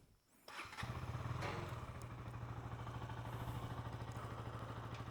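A motorcycle is cold-started: a brief crank catches into a loud, close engine that settles into a steady, rhythmic idle with a mechanical clatter.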